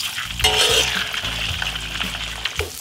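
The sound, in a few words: pork fat frying in hot rapeseed oil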